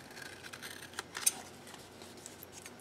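Scissors snip printed clear self-adhesive sticker paper: quiet, close clicks and short cuts, with one sharper snip near the middle, no talk.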